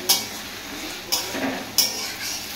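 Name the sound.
onions being stir-fried in a pan for egg tadka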